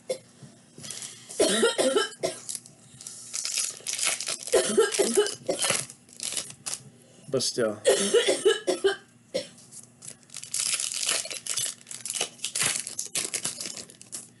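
Several rough, throaty coughs come in bursts, close and fairly loud, with a brief bit of speech near the end.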